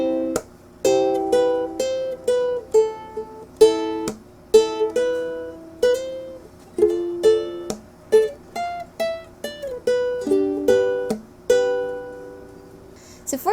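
A ukulele plays a song slowly, with clear, ringing strummed chords in a relaxed, even rhythm close up. The strums are plucked-sounding, and no voice is heard.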